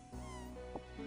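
A cat meows in the video game Old School RuneScape, a short close call rising and falling with a second brief meow after it, heard alone without talk.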